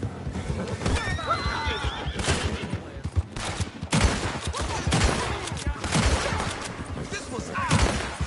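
A horse whinnies and neighs in a Red Dead Redemption 2 gunfight, its calls rising over bursts of gunfire and shouting voices, with hoof clatter mixed into the busy scene.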